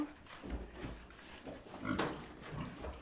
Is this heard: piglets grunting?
yes